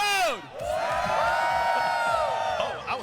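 A crowd at a Combo Breaker 2025 fighting-game tournament for Under Night In-Birth 2 cheers loudly, with whoops and sustained shouting swelling after a brief lull and holding for several seconds.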